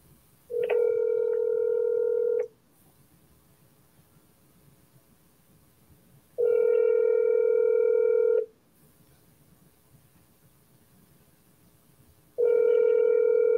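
A telephone call ringing out: three long, steady electronic tones of about two seconds each, separated by roughly four seconds of near silence, clear and close, with no talking.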